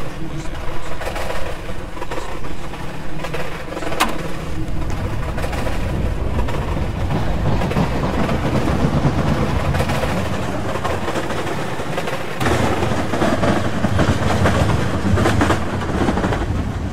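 A metro train in a Roblox game arrives at a terminal station with a loud rolling rumble and rail clatter that swells toward the end, under a recorded announcement voice.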